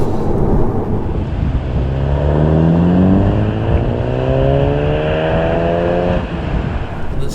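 A VW Golf GTI Performance MK7.5 accelerates hard, its engine note climbing through the revs with rising tones and a gear change, loud and close with steady road noise underneath.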